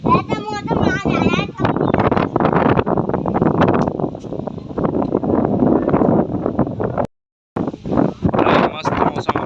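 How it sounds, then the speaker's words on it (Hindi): Cool wind gusts across a village under dark rain clouds, loud buffeting rumble on the microphone, broken by a brief silent gap, with a person speaking throughout. "मस्त ठंडी हवा चल रही है"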